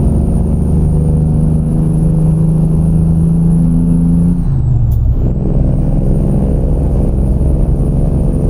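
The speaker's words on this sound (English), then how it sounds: "You mean the brake sounds, Carly?" A Kenworth W900 truck in American Truck Simulator with a loud, steady diesel drone as the engine note drops mid-way and a brief air-brake hiss sounds, then the low rumble carries on.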